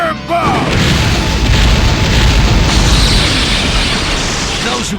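The Liger Bomb attack in Naruto Shippuden: Ultimate Ninja Impact lands as a loud, booming game explosion after a short lead-in, then a sustained crackling roar that slowly fades.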